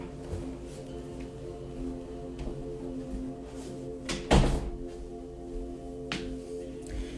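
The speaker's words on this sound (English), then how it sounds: "let me close the door" A door closes once in a room, a short thud that stands out above a steady low background hum, with a few faint knocks and clicks scattered before and after.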